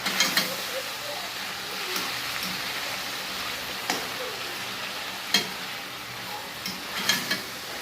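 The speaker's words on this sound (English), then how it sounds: "Some sort of stir frying these vegetables here" Vegetables stir-frying in a pot for a Jamaican-style chicken Alfredo: a steady sizzle and hiss, broken every second or two by sharp scrapes and clatters of stirring.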